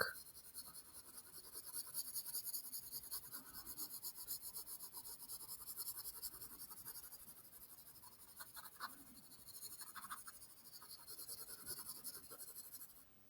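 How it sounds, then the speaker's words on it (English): Graphite pencil shading on paper using the side of the lead, a steady continuous scratchy rasp with small bursts and pauses, close and fairly quiet, no talking. "I'm kind of using the side of my pencil, but without trying to layer too much"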